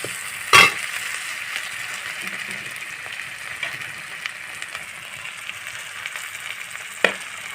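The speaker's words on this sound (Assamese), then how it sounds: "বিলাহীখিনি এতিয়া ঢালি দিলোঁ বিলাহীখিনি অকণ ভাজোঁ" Chopped tomatoes fry in a pan with onion, chilli and ginger, producing a soft, even sizzle throughout, with a sharp utensil clatter near the start and another near the end.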